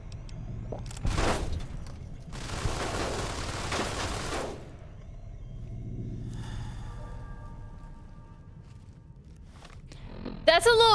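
Turrets fire in Fallout New Vegas, with bursts of gunfire and a long dense stretch of shooting, then quieter rumbling and a sharp loud blast at the end, all under a player's frequent talk.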